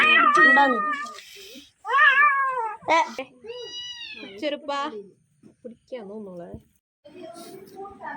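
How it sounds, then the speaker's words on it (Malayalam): Two small kittens trapped inside a tar barrel give repeated high, strained meows and cries in close, separate bursts with short pauses between them. "രണ്ട് ചെറിയ പൂച്ചക്കുഞ്ഞുങ്ങൾ ടാറൽ ടാറിൻ്റെ ബാരലിനകത്ത് കുടുങ്ങി"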